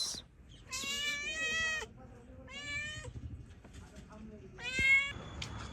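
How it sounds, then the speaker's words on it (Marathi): A cat meows repeatedly in a small shop, several drawn-out harmonic calls in short bursts, fairly close, over a low background hum. "आमचं मांजर आलंय."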